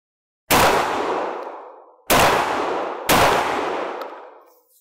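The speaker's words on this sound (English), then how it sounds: "I'm gonna go three in a row" Three loud shotgun blasts from a gun fitted with a choke, the first standing alone and the last two closer together, each a sharp crack followed by a long, fading ring-out.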